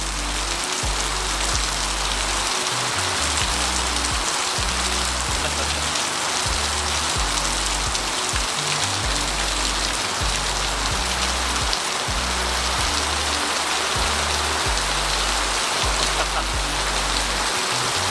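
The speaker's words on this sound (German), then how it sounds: "das regnet in Strömen" Heavy, steady tropical rain in the Philippines drums down hard in a continuous dense roar, with deep low rumbling underneath throughout.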